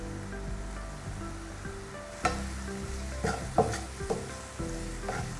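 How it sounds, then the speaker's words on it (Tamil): Onions frying in a pan with a steady sizzle, with a few clinks and scrapes of a spoon stirring them, no talking. "வெங்காயம் நல்லா கோல்டனாக ஃப்ரை ஆகணும், அது வரைக்கும் வதக்கிக்கோங்க."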